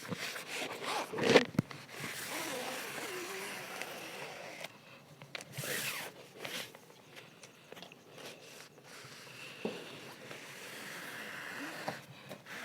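A knife cutting along the folded edge of a paper bag produces a quick rasping rip followed by softer rustling and scraping, close by and without speech.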